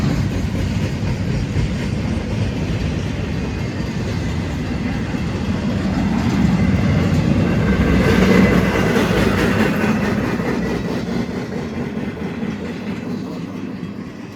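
Train with railroad cars rolling past in the dark at Pacific, Missouri, a steady loud rumble with rhythmic clickety-clack of wheels on rail joints, swelling as cars pass close, then easing as the end of the train goes by.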